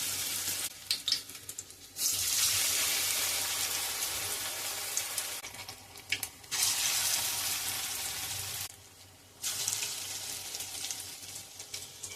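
Onion pakora batter (peyaji) deep frying in hot oil, a steady loud sizzle with bursts where batter drops in, easing briefly between batches.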